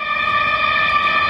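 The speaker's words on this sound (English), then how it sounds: "Oh my god, that's the song of the ACWF Sunshine State Champion, Dom Fasolo" A wrestler's entrance song plays at a wrestling event, a sustained loud musical chord with steady tones held throughout, brief and without talk.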